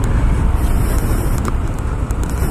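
Yamaha NMAX 160 scooter engine droning steadily while riding, with loud rushing wind across the microphone throughout.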